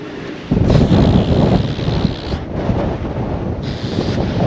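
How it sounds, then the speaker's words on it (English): Strong wind buffets the microphone on an exposed mountaintop on the Isle of Man, a loud rushing roar that gusts and dips for several seconds without a break. "The problem is getting out of the wind. You're in the top of a mountain after all."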